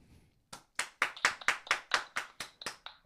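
A small group claps on a morning radio show, starting after a brief quiet gap and then settling into a steady run of sharp, close hand claps.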